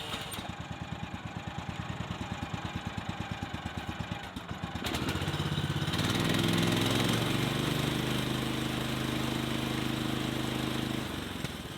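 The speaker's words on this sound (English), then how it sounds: "Only thing is I've got it idled down, and I need to just get a screwdriver and idle it back up" A sawmill engine idling low in the cold, a steady rumbling putter with regular pulses that shifts to a louder, fuller running drone partway through, close by and alone.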